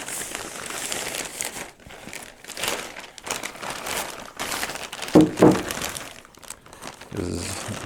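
A plastic bag crinkling and rustling as it is fitted over a charred oak barrel, loud close crumpling in uneven bursts with a couple of sharper crackles partway through and a short pause between handling sounds.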